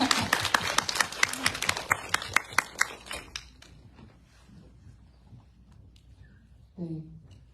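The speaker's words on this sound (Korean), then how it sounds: "일단 박수 먼저 주시죠" Audience at a disability rights film festival screening claps loudly and quickly for about three seconds, the applause then thinning to scattered claps before a voice begins speaking.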